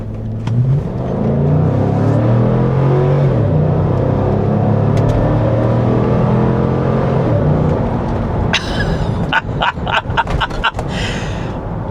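A Cadillac Escalade engine rumbles and revs loudly through its factory exhaust for several seconds, deep exhaust note swelling and falling, ending with choppy bursts as the throttle blips.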